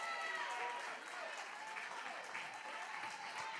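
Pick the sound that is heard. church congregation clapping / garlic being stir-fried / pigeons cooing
church congregation clapping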